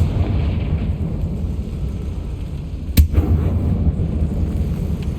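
A Confringo blasting spell explodes in the Hogwarts Legacy video game, one sharp, brief burst cutting through a dense rumbling background.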